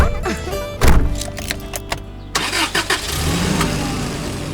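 A car is started, with thumps and clicks, then a medium engine rumbles as the father begins driving after an accident, the running engine close and steady at the end.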